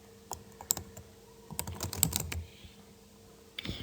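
Close, quiet typing on a computer keyboard: a few scattered taps, then a quick burst of keystrokes, a pause and a final couple of clicks.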